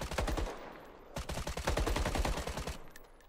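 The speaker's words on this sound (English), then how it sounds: "His gun's loud." Rapid gunfire bursts from The Day Before video game trailer, a loud repeated volley of shots that continues steadily for most of the clip, with no talking over it.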